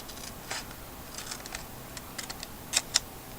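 Scissors snip through a book page, with small faint rustles and then two crisp, close cuts near the end.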